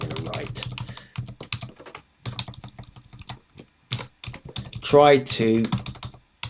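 Rapid clicking keystrokes on a computer keyboard in bursts, close and clear, interleaved with someone talking.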